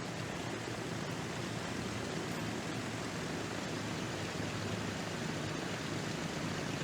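A helicopter flies uphill in the Transport Fever 2 video game, a faint, steady, even rotor drone that continues unbroken with no talking.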